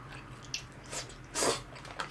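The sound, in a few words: chewing Lawson convenience store food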